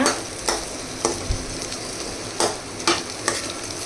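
Garlic and onion sauté in a pan for a chicken gravy, a constant sizzle broken by several sharp spatula scrapes and stirs at irregular intervals, close and without speech.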